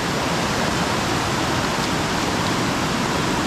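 Water pouring down beside a river, a steady, loud, broadband rushing roar with no breaks, close by and filling the whole clip without speech.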